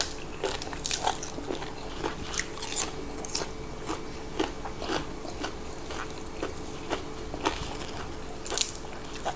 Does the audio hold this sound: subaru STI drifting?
no